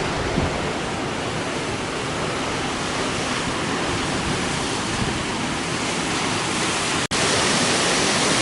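A waterfall on the Otter hiking trail gives off a steady, loud, rushing roar that holds constant throughout, broken only by a brief sharp click near the end. No voices are heard.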